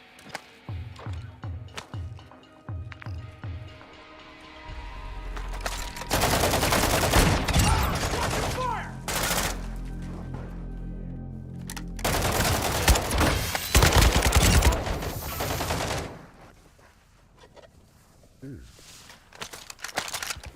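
Bursts of gunfire from a silenced weapon in the Warzone 2 DMZ video game, a few short shots and then heavy, dense firing with talk mixed in.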